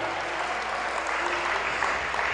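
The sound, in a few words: church congregation applauding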